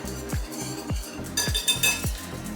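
A spoon knocks and scrapes around a bowl while stirring whole wheat flour and salt for bread dough, making a few close, distinct clinks and thuds in quick succession with no voices.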